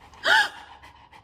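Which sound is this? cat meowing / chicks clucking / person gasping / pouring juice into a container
person gasping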